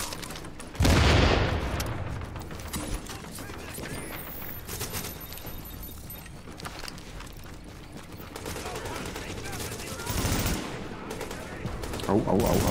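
A grenade blast goes off amid heavy gunfire in Tom Clancy's The Division: one loud, close boom early on, then continuous rattling shots and further bursts, with players talking over the combat.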